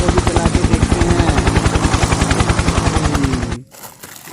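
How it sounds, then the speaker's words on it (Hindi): A cartoon helicopter flies with a loud, fast, steady rotor chop. The rapid, even pulses go on for several seconds, then stop abruptly and leave only faint background noise. "ये देखो कितना बढ़िया सा हेलीकॉप्टर उड़ रहा है।"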